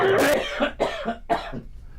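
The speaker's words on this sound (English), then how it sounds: "I'm going to cough here." A man coughs three times in quick succession, close and fairly loud, with short harsh bursts trailing off into breathy rasps.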